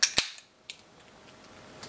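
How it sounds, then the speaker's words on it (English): A beer can cracks open with a sharp metallic snap and a brief hiss, followed by a couple of fainter clicks in a quiet room. "I'm gonna crack open a beer."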